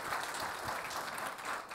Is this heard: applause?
yes